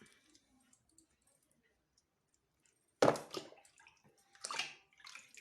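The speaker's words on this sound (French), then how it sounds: "On lave bien." Cleaned cuttlefish is rinsed in water, heard as a sudden burst of splashing and sloshing after a near-silent stretch, then further bursts of swishing water, fairly close.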